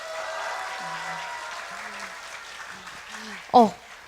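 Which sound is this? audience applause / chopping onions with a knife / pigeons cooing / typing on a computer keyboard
audience applause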